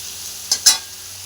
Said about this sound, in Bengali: দেখো পরিমাণ মতো নুন হলুদ দিয়ে দিয়েছি, দিয়েই ভাজা শুরু করে দিয়েছি।